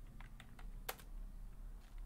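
Computer keyboard typing while entering entries into a LibreOffice Calc spreadsheet: a handful of quiet, close key clicks in an uneven rhythm, one sharper keystroke standing out, no speech.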